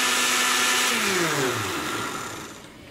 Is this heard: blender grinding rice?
yes